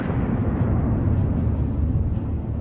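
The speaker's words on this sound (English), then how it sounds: "The vehicle was almost at its destination when an anti-tank mine suddenly shattered all of the Russians' plans." An anti-tank mine blasts under a Russian military vehicle near the front lines, a heavy, sustained low roaring rumble that fills the moment, loud and dense without distinct separate bangs.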